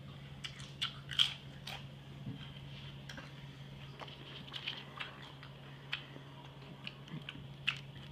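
Crunchy nacho tortilla chips being bitten and chewed close up, a run of sharp, irregular crunches over a low steady hum, fairly quiet with no talking.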